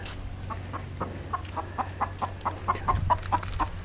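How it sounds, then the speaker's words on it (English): A hen clucks in a steady series of short, evenly spaced calls, close by and clear over a low background hum. "this is the hen that eats eggs"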